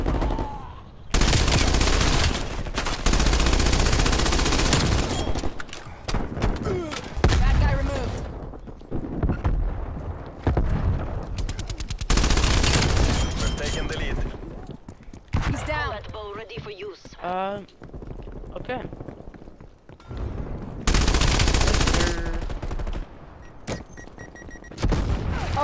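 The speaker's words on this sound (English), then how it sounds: "I'm using the tactical rifle and a submachine gun." Tactical rifle and submachine gun fire in Call of Duty: Cold War, loud bursts of shots alternating with quieter gaps, with players talking over and between the volleys.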